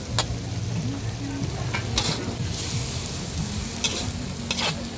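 Food sizzles and crackles in a hot wok with steady frying noise, punctuated by scraping and clanking of a spatula stirring stir-fried chicken noodles at a northern Thai market in Chiang Mai.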